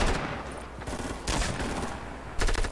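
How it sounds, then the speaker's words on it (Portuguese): Bursts of gunfire crackle in rapid, dense volleys, loud and close, with brief gaps between clusters of shots and no talking. "E é tiro de lá, e é tiro de cá."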